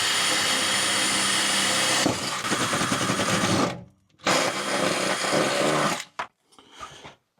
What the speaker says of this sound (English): let's get a pilot drill through all of the floor